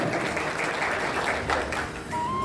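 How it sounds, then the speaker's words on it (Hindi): Steady applause from the crowd at a Sahu community event, welcoming a ward councillor, Sohan Sahu, as a speaker; dense, continuous clapping fills the whole stretch at an even level. "भाई सोहन साहू के लिए जोरदार ताली बजा के अभिनंदन करो"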